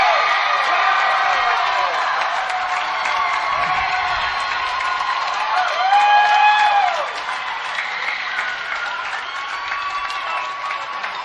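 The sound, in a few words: crowd cheering at a high school swimming championship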